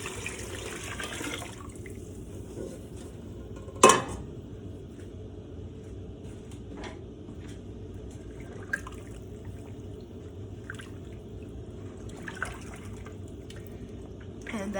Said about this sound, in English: I'm just going to add some more water to my pot